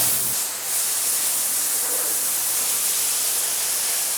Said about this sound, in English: I'm spraying a good degreaser and cleaner up underneath the fender wells and on the lips of the fender well